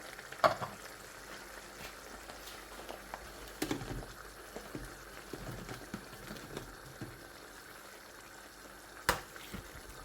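Paneer butter masala curry simmering in a pan after the paneer goes in, with a soft, steady sizzle and bubbling, punctuated by occasional clinks and stirring knocks close by.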